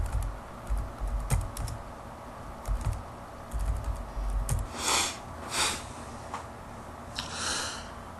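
Computer keyboard keys tapped in short bursts while entering a username, close and clear, followed by a few louder breathy sniffs or snorts near the end; no speech.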